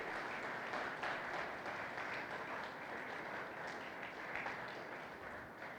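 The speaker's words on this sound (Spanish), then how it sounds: "yo quiero que le demos un aplauso a todo aquel que puso las manos" A church congregation applauding together during a Sunday service, steady dense clapping filling the room from start to finish at a fairly quiet level, with no voices standing out.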